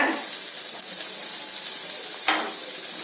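Chili powder and garam masala stirred in a frying pan for wheat flour noodles, giving a steady close sizzle with a brief scrape of the spoon partway through, no talk over it.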